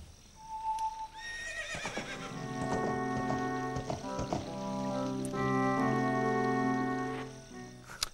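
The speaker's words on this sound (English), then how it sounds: "That was the horse, Epona, and it's been summoned by his special song." A whinny from Epona, the horse in a Zelda video game, rises over a short musical tune, followed by clip-clop hoofbeats and more neighing, all clear and close with no talk.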